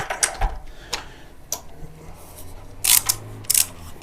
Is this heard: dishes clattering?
no